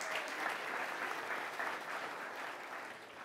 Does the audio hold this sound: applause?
yes